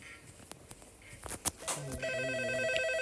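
A telephone in a video game starts ringing with a steady electronic tone after a few clicks and thumps, fairly close and clear.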